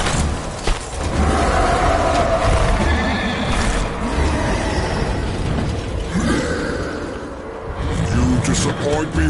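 Horse neighing in the video game Darksiders, a loud whinny sitting in a dense mix of game sound effects and music, with a voice speaking over it.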